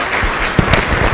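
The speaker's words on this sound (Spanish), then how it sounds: "Fuertes las palmas, por favor, para los señores panelistas." Audience applause for panelists at a plenary conference session: a dense, steady wash of clapping from a crowd, with a couple of slightly sharper claps standing out, lasting just over a second.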